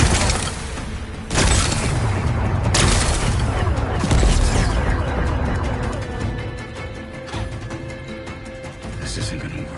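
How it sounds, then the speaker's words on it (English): Power cell blowing up on a machine in Horizon Forbidden West, a loud burst of blasts and crashes near the start, then sustained rumbling booms and debris clatter over a dense battle din. "It's working! It's exploding."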